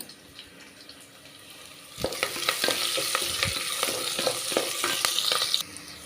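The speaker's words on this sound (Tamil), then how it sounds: "வெங்காயம் பாருங்கள் லைட்டாக வதங்கிருச்சுங்க" Onions sautéing in a pan: quiet low hiss at first, then a louder sizzle begins abruptly with repeated stirring scrapes and clacks of a spoon for several seconds before stopping.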